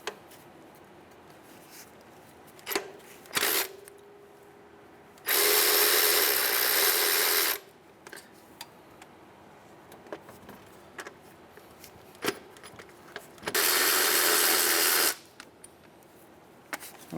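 Power tool or ratchet backing out 12mm bolts on the power steering pump of a 2003-2011 Honda Element, two loud sustained bursts of about two seconds each, separated by quieter clicks and handling of parts.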